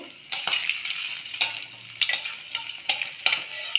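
Two garlic cloves and a small piece of ginger sizzle in a pan for chenna masala, with light stirring and a few sharp scraping clicks over a steady soft fry.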